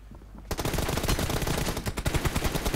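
A quiet lull gives way to sustained automatic gunfire in PUBG Mobile on the new Erangel map, a loud, close, rapid burst of shots that carries on steadily to the end, with no voices.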